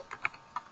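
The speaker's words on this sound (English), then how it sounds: "Allow me so I can type" Typing on a computer keyboard during live web training gives three or four quick, light key clicks in under a second, close and fairly quiet, with no talking.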